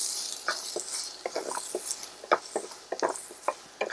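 Onions and garlic sizzle softly in a pan under a steady hiss, with scattered light stirring taps and crackles throughout.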